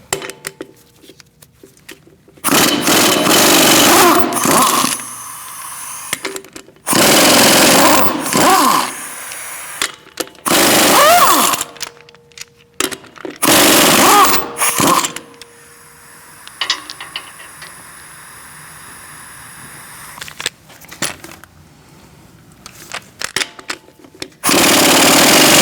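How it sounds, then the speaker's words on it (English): Rapid bursts of an impact wrench loosening lug nuts with a 19mm socket from a front wheel of a 2016-2019 Chevrolet Cruze, several loud, close, rattling bursts separated by quiet gaps and softer clinks. "I'm using a 19mm socket, and we're going to remove the lug nuts."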